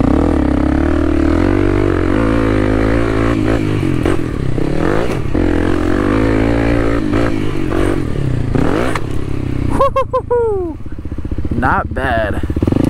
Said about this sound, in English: I kind of want to see him hitting on the race bike, the 250F.